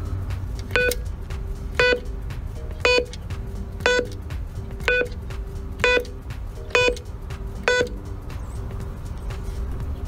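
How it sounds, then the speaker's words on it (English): Keypad beeps from a Viking AES-2000 door entry system, eight short electronic tones spaced about a second apart over a low background hum, each crisp and close, no talking. "enter their phone number on the keypad, then press the call button"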